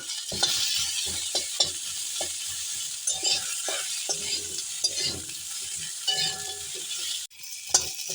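Ginger paste and asafoetida frying in oil for shukto, a soft continuous sizzle dotted with frequent small clicks and scrapes of a spoon against the pan, close by and fairly quiet, with no talk.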